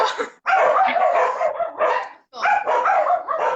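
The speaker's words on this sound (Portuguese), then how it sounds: "Não liga meus cachorros." Several dogs bark in repeated loud, close bursts with brief pauses, sounding alongside a live radio interview.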